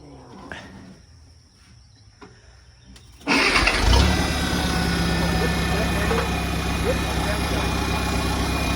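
Old International Cub tractor engine cranked by jumping the solenoid: a quiet stretch with faint noises, then the engine abruptly catches and roars, running loud and steady up close.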